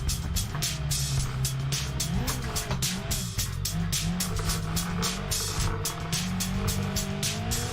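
Simulated car drifting in BeamNG.drive, tires squealing continuously under a revving engine, with rapid pulsing rev-limiter bursts, loud and close throughout.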